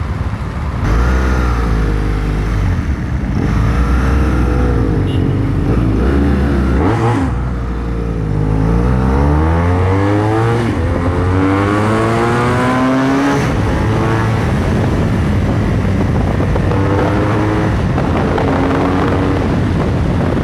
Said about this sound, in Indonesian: Ini motor enak banget larinya buat belok-belok.